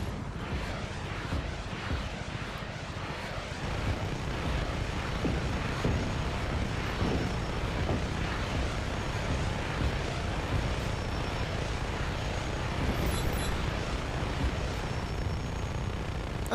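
A helicopter in the video game Just Cause 3 drones with a continuous loud engine and rotor roar, broadband and steady for the whole stretch, with faint game effects and no talk.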